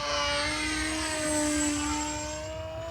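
A radio-controlled model F-14 airplane with a propeller flies past, its steady whining motor drone holding continuously for three seconds with a slight shift in pitch.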